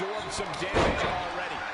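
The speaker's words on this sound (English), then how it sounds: "Rick Steiner knocking Jeff Hardy over" A wrestler crashes onto the mat in WWE 2K23, Rick Steiner knocking Jeff Hardy over, a single heavy thud amid steady arena crowd noise and commentary.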